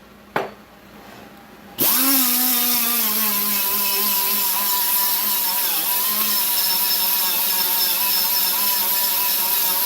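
An air blower switches on with a sharp jump in level and then runs steadily and loudly, a constant whirring roar with a rising then settling tonal whine, after a brief quiet start with a single knock.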